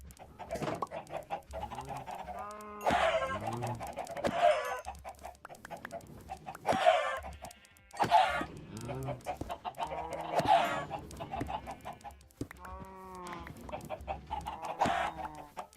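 Minecraft chickens on a farm cluck repeatedly in short, irregular bursts, close and fairly loud, with no talking over them.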